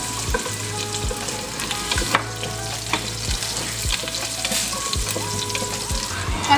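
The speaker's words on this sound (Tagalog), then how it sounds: "magigisa na tayo ng ating sibuyas para sa ating pansit bihon" White onions sauté in hot oil in a heated pot for pancit bihon, giving a loud, steady sizzle broken by regular clinks and scrapes of stirring, with no talk.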